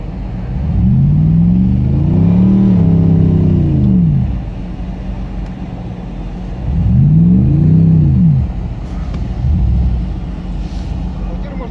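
An off-road car's engine revs twice in long rising-and-falling surges as its wheels dig into the ground, loud and close, with a lower idle rumble between the bursts.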